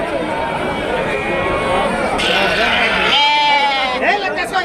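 Sheep bleat loudly and repeatedly at the Kunta sheep and goat market in Ongole, several wavering calls overlapping close by amid general crowd bustle.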